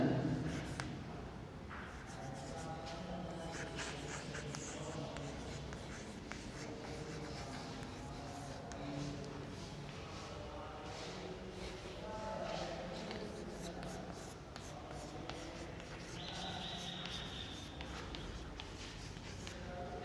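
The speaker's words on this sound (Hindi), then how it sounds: "आइए हम लोग लिखते हैं इसको" Pen strokes write out an algebraic expression in soft, repeated scratching marks, faint and close, over a steady background hiss.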